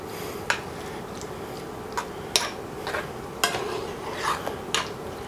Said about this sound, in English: Let me stir this for a little bit here